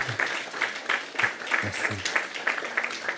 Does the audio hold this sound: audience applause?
yes